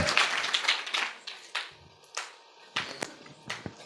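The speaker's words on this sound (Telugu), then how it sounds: "చప్పట్లు" A church congregation clapping hands during worship, sparse irregular claps rather than continuous applause, with short bursts and gaps, fairly close and moderately loud.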